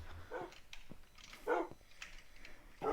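A few short dog barks from Minecraft, spaced out across a quiet in-game background, moderately loud with a gap between each yelp.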